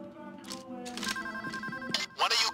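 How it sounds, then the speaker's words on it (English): Telephone ringing during a bank heist in the video game Payday, a bright electronic ring in short repeated bursts alongside other game tones and brief voices. "One of you guys answer the phone and pass me through."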